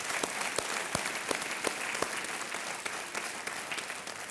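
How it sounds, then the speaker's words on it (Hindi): Studio audience applauding on the Indian TV quiz show Kaun Banega Crorepati, a steady wash of many hands clapping with a few sharper individual claps standing out, sustained and fairly distant throughout. "एक बार तालियों के साथ इनका अभिनंदन हो जाए"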